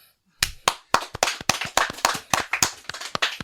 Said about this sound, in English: I think a round of applause is due.